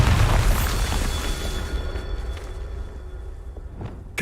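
A Bombarda spell explosion in Hogwarts Legacy on PS5: a loud, deep boom at the start that decays into a rumbling tail over a few seconds, with no talk.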